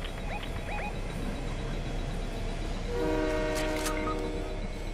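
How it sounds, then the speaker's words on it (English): A train passes in the Fortnite video game with a loud sustained horn blast partway through, layered over constant rumbling rail noise and an earlier short tonal chirp, fairly close and without talk. "Yeah, you probably should have hopped on the train with me."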